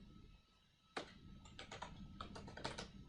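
Quick bursts of computer keyboard typing, entering a town name into a real estate marketing web form, begin abruptly after a near-silent second and continue as rapid, close clicks with a steady room hum underneath.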